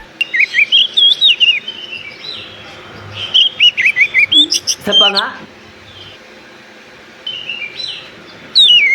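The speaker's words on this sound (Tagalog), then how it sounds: "Narito ang tunog ng ibon." Bright, rapid bird chirps and tweets come in bursts, some warbling and whistled, alternating with short gaps; a person speaks briefly in the middle.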